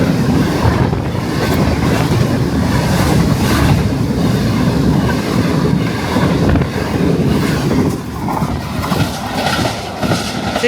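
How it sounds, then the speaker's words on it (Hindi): A Pakistan Railways 6 Down Green Line express rushes through Jungshahi at about 103 km/h, a loud continuous close roar with heavy wind buffeting across the whole stretch. "सिक्स डाउन ग्रीन लाइन 103 की स्पीड से गुज़र गई।"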